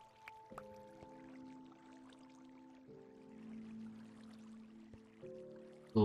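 Flowing water in Minecraft on PS4 inside a cave, a soft steady trickle with dripping blips under sustained game-music tones, quiet overall, ending in a brief louder knock.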